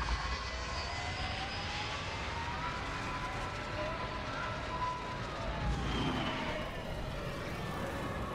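A Rebel Y-Wing starfighter roaring overhead in Star Wars Battlefront on Jakku, a sustained engine drone with a swelling pass, faint and blended into battle noise with a few voices.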